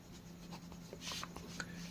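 A pen scratches across paper while a class 10 maths solution on the distance between two points is written by hand, with faint, close, irregular strokes and taps.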